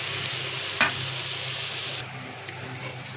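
Koi fish fries with tomato in a pan under a constant close sizzle, with one sharp utensil clink as it is stirred and a lighter tap shortly after.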